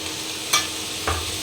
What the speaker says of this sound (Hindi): अब इसको अच्छे से भूनते हैं। सब्जियों को कुछ इस तरीके से हम भून रहे हैं।